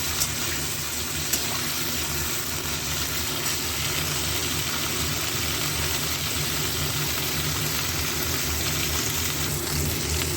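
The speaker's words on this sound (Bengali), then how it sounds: "এতে এগুলো একটু ভালো করে ভাজা ভাজা করে নেব।" Potato and cauliflower chunks frying in oil in a pan, giving a steady, even sizzle that holds without a break throughout, with no talking.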